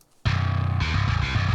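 A short burst of djent bass from a VST with low-end boost and compression kicks in abruptly after a moment of quiet, a dense, distorted chugging riff that sustains loud and upfront.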